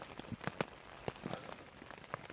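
Rain falls overnight on a 3x3 tarp over a hammock at a forest wild camp, heard as scattered, fairly close drops tapping irregularly against the fabric over a soft steady patter.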